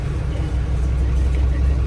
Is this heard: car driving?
yes